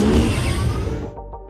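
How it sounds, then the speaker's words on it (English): Tron motorcycle sound effect from the Skywalker Sound library: a loud, dense electronic engine roar sweeping past, then thinning out into a pulsing low hum as it fades away. "We have the Tron motorcycles."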